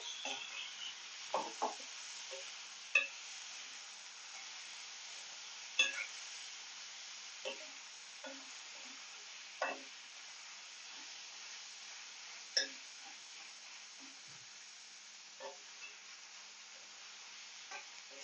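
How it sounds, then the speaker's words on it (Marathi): Ginger, garlic, tomato, curry leaves and green chili sauté in a pan in a steady close sizzle, broken by scattered clinks and scrapes of a spoon stirring, with no talking. "आता अद्रक लसूण टोमॅटो कढीपत्ता आणि हिरवी मिरची आपण यात परतायला टाकून घेऊया"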